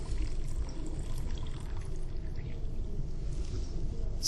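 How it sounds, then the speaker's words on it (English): Water from washing cherry tomatoes is poured out of a bowl into a glass, a steady continuous splashing stream that fills the whole stretch, close and fairly loud, with no voices. "let me take out that water and put it into this glass"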